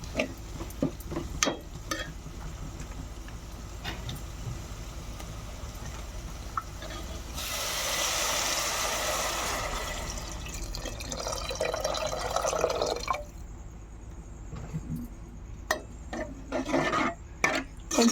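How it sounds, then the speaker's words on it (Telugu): Water is poured into a pan of cooking boti gongura with a brief, steady splashing rush midway, surrounded by faint stirring and scraping sounds in a quiet kitchen. "ఇప్పుడు ఇందులో కొన్ని నీళ్ళు అయితే పోసుకుంటాను."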